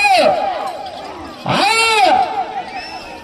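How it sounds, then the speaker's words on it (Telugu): Crowd of spectators yelling and cheering at a rural competition in Anantapur district, Andhra Pradesh: loud, close voices in two bursts, the second swelling into a sustained roar before fading into scattered calls. "కేకలు కేరింతలు"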